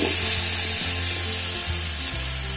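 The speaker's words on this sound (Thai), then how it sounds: "ต่อไปเฮาก็คั่วพริกคั่วหอมคั่วกระเทียม" Chili, shallot and garlic dry-roasting in a pan for a Thai jackfruit soup, giving a steady, close hiss throughout with a low mechanical hum underneath.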